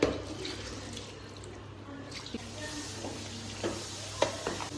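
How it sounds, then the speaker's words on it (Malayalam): Cooked jackfruit and chicken are stirred together in a pot, giving a quiet, wet, scraping churn with a soft background sizzle and a few sharper clinks near the end. "ഇനി നമ്മൾ മിക്സ് ചെയ്യാൻ പോവാണ്"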